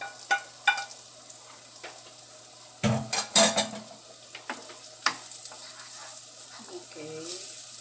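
Chopped onions cook in a frying pan for a leftover pasta noodle frittata, with a soft background hiss broken by clattering utensil stirs and knocks against the pan. A brief voice is heard near the end.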